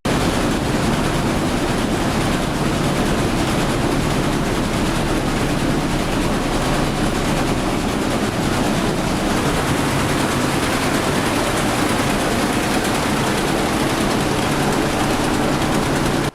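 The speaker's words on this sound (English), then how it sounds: "a video from 2010 that shows the engines in operation" Original engines of a superyacht running, recorded in 2010, give a loud, steady, broadband mechanical roar with a deep low rumble that holds evenly throughout, with no voices.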